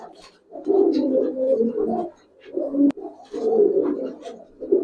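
Giribaz pigeons cooing up close, with several long, low, throaty coos separated by brief pauses and one sharp click midway.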